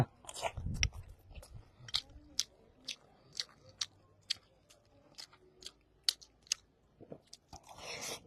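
A fried egg is bitten and chewed close up, giving a quiet run of crisp, regular crunches about every half second, with a little soft noise at the start and end.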